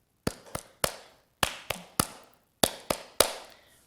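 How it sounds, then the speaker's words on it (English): Nine sharp hand claps, close and crisp, falling in three quick groups of three with short pauses between groups. "we're going to bring our hands forward and we're going to clap 9 times"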